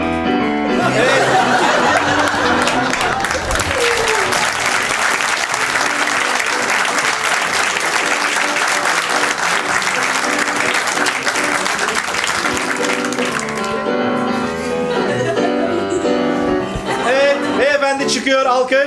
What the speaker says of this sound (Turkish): Çıkıyor alkış.